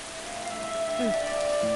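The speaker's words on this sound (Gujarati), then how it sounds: "અચાનક ખૂબ જ જોરથી વરસાદ પડવા લાગ્યો." Heavy rain pours down in a steady, dense hiss, with a faint sustained tone and a brief wavering note drifting over it.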